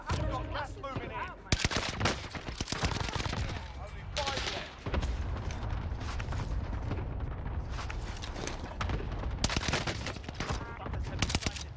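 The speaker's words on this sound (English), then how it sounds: "I'm gonna shoot him" Dense automatic gunfire and rapid shots from the NZ-41 rifle in Call of Duty Warzone Pacific on Rebirth Island, loud and nearly continuous with brief gaps, with voices talking underneath.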